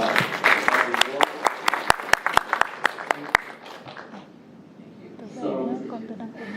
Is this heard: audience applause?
yes